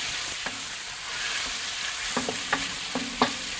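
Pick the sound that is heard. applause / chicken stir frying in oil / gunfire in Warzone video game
chicken stir frying in oil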